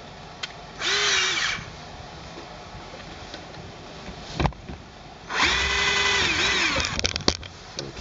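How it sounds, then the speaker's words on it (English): Two bursts of a power drill whirring as it re-drills a hole for a 2014 Acura MDX cargo cover, each about a second, separated by a quiet pause with a sharp knock in between. "I'm gonna have to re-drill it again."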